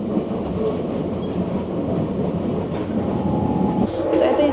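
Steady loud rumble and rattle inside a moving Keisei Skyliner train car, continuous rail noise with faint clicking throughout and no talk.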